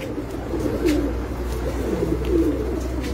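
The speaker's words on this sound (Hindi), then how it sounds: "ये मेरा कबूतर है जी, एक कमांडो माशाल्लाह।" A pigeon coos repeatedly close by on a rooftop, with low throaty rolling calls in a steady rhythm over faint background hum.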